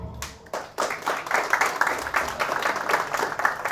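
An audience at a Hindi comedy show claps in a burst that builds quickly after a few scattered claps and continues as steady, close applause.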